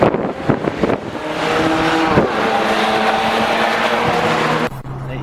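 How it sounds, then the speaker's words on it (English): A BMW straight-six twin-turbo car accelerates hard out of a corner, its engine note rising through a loud, close, sustained snarl with shifting pitch and brief dips between gears. "She wants to accelerate out of the corner. Oh, straight 6 twin turbos, 2 massive turbochargers feeding those 6 cylinders"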